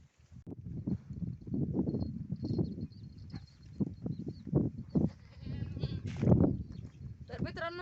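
Goats bleat repeatedly nearby while a person talks over them, with a sharp, wavering bleat standing out near the end.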